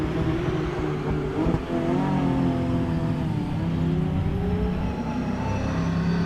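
A performance car revs and pulls away from traffic lights during a Mt Lofty event stage, its engine note climbing through the gears at close range and staying loud with no talking over it.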